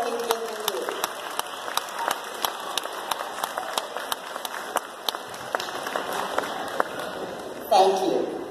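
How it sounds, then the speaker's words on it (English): A graduation audience claps for the parents, a scattered, moderate round of applause with distinct individual claps standing out from the crowd noise. "Stand up and clap for them for the support they've given you."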